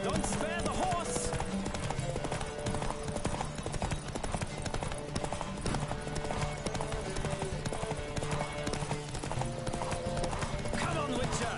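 A horse gallops in The Witcher 3: Wild Hunt, its rapid hoofbeats clip-clopping steadily throughout with an occasional neigh, layered under game music and voices.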